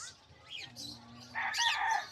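Birds for sale at the Malabon pet market call in short chirps and whistles, with a faint crowing-like cry rising near the end, moderately quiet against a low background hum.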